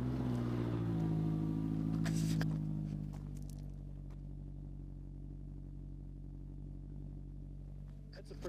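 A 2014 Scion tC engine idles with a steady low rumble, revving briefly at the start before settling into an even exhaust drone, close and loud.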